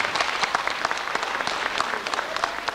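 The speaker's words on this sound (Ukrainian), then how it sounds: "давайте вашими оплесками щиро подякуємо всім учасникам цього прекрасного" Audience at a children's and youth creativity festival applauding the participants, dense steady clapping from a crowd throughout, fairly loud and close with no talk.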